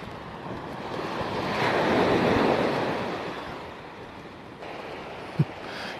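Surf breaking on the shore at Guéthary on the French Atlantic coast, a steady broadband wash that swells and recedes under wind buffeting the microphone, with one brief knock near the end.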